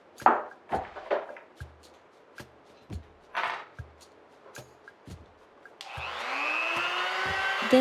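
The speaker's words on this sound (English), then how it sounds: "Then I polished the piece for a very, very long time." Polishing an amazonite and sunstone necklace piece: a series of light knocks and taps, then a motorized polisher spins up into a steady, rising whir that continues to the end.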